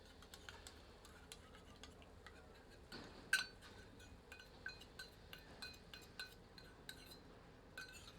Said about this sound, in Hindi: इनको प्याज के साथ अच्छे से मिलाते हैं।